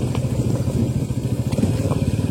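A motorcycle ridden along a potholed road, its engine running in a steady close throb with rhythmic rattling and clatter from the rough surface, loud and without talk.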